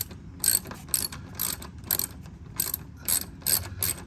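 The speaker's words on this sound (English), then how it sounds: "He's going to ratchet that down." Ratchet clicking in repeated short bursts as a bolt is tightened on Tesla Model 3 mud flaps, about eight quick sets of clicks close up with no talking.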